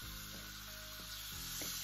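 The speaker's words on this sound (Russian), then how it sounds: "Берем неполный половник теста и выливаем его на сковородку." Pancake batter poured from a ladle into a hot frying pan sizzles steadily, a continuous close frying hiss with a few soft scraping or stirring touches and no speech.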